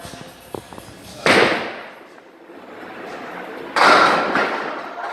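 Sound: candlepin bowling ball hitting pins

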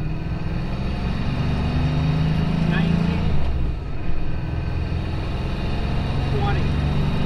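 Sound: 7.3 IDI diesel truck accelerating in second gear

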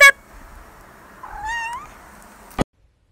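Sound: tuxedo cat meowing

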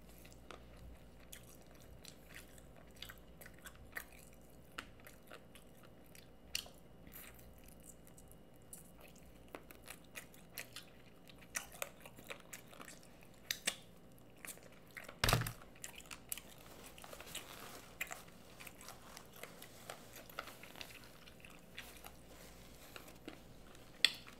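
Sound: eating steak burger and garlic parmesan chicken wings

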